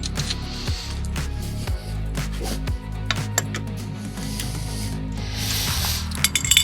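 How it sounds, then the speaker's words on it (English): Bike wheel axle nuts being loosened with a tool while removing the wheel from the frame: close metallic scraping, rubbing and small clinks in an irregular rhythm, over a steady low hum with no talk. "we get access to the nuts that we can untighten to get the wheel out of the frame"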